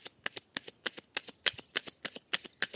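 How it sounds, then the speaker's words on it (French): Tarot cards shuffled to draw five for a card reading: a quick run of crisp, close riffling slaps in an even rhythm, fairly quiet with no talk. "on tire 5 cartes."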